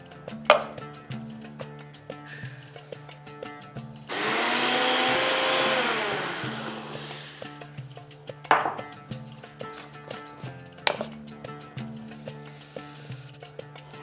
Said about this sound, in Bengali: সুজিটা যেহেতু মোটা দানার সেই জন্য এটাকে একটু গুঁড়ো করে নেব।